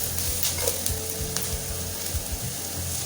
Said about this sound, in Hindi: अब इसमें जाएंगे तमाम मसाले। हल्का सा फ्राई करना है।